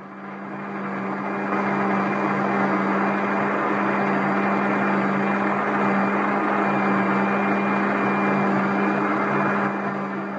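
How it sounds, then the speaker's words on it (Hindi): A blender grinds green chilies, mint, coriander, garlic and cumin, whirring steadily for about ten seconds, a dense grinding drone that starts, holds at full strength, and winds down at the end. "इन तमाम चीज़ों को अब मैं ब्लेंडर में डाल के पीस लूँगी"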